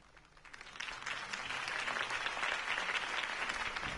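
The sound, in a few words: audience applause after a campaign speech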